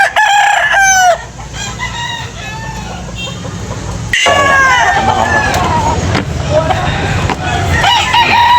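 Roosters crow repeatedly at a chicken sale in Carbon, Cebu, their loud calls layered with clucking and a busy crowd talking throughout.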